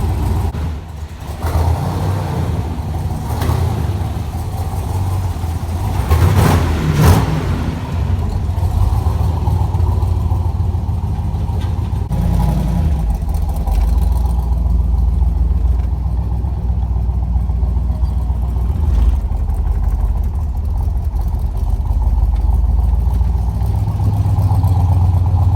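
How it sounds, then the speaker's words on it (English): A forklift engine drives and maneuvers in a garage, a continuous loud low mechanical rumble with a few revving swells early on, steady to the end with no talking. "I'm going to pull her out and move the forklift"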